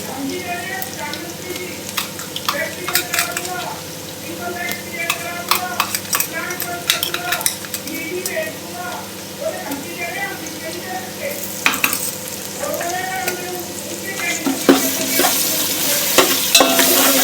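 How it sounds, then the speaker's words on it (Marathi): Ginger garlic paste sizzles loudly in hot oil with browned onion in a pan, spatula scraping and stirring in repeated strokes over a constant crackling fry, close and continuous with occasional metallic clinks. "भरपूर अशी आलं लसूण पेस्ट टाकायची."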